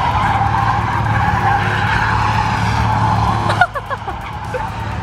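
Car tires squeal in a long, loud continuous skid as an engine roars while a BMW drifts donuts around cones, then the screech breaks off abruptly into fading, choppy tire noise.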